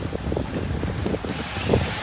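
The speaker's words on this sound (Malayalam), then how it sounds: "ഇങ്ങനെ കാറ്റടിച്ചിന്" Strong wind buffets the microphone during a motorcycle ride to Ladakh, a steady, loud rushing roar that swells slightly near the end, with no voices.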